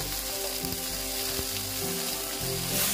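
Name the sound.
okra frying in oil with turmeric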